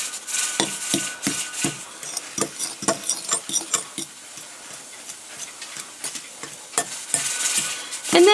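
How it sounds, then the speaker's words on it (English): A fork works through homemade buttermilk ricotta in a bowl, making soft, wet scraping and clicking strokes in irregular bursts, close and fairly loud, with no talk. "I'm just going to run my fork through here."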